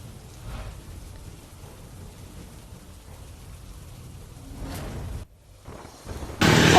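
Heavy rain falls under cloudy skies in Valsad, a steady wash with low rumbles, briefly dropping away before a loud surge of downpour at the end.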